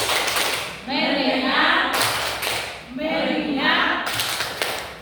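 Primary school class in a classroom doing a 'tepuk fokus' clapping routine: two rhythmic bursts of many hands clapping together, with children's voices between them.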